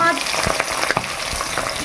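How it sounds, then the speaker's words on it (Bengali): Fish sizzles and spits loudly in hot oil in a pan in a village kitchen, with steady crackling and a few stirring knocks, and no talk. "এবার মাছটা ভেজে নেব"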